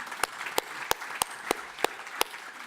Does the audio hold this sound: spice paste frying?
no